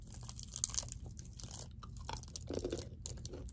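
Close, crunchy chewing of a milk chocolate caramel candy, soft repeated bites and mastication with no talking.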